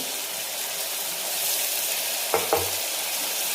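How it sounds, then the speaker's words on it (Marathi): A paste of ginger, garlic, coriander and green chilli fries in hot oil, giving a steady, close sizzling hiss. Two brief clinks, like a stirring spoon, sound near the end. "आणि ह्याला आपण तेलामध्ये आपण फ्राय करून घेऊ"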